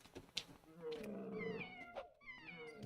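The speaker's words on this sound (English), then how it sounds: "They make meowing noises, but do not be tricked." Creatures meow while attacking in the video game Morrowind Bloodmoon, giving several short cat-like yowls and wavering cries under a man's speech.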